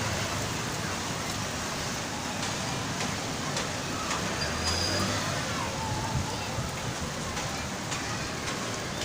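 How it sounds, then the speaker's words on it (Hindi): Heavy rain pours down outdoors, making a dense, even hiss that stays loud and unbroken from start to finish. "बारिश बहुत तेज़ शुरू हो गई है"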